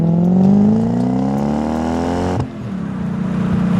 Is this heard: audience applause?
no